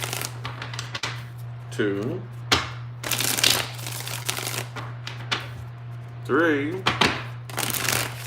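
Playing cards are shuffled for a tarot-style reading in a series of short riffling bursts, close by and crisp, with a voice counting and talking between them over a steady low hum.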